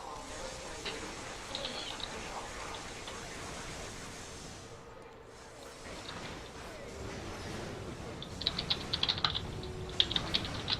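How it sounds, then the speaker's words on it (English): Computer keyboard typing runs under a steady hissing background noise, with a brief lull midway and then a burst of sharper, faster clicking keystrokes near the end. "What are you typing?"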